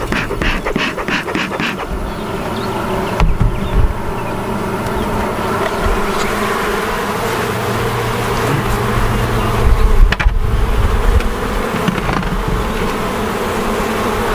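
Honey bees buzz in a dense, steady swarm close by while a beekeeper opens and inspects a hive after puffing smoke at the entrance, the drone continuous for the whole stretch with a few brief louder bumps.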